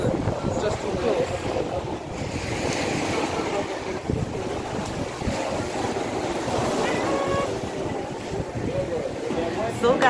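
Waves wash in steadily at Hellshire Beach, Jamaica, with strong wind buffeting the microphone throughout. A person talks over the surf.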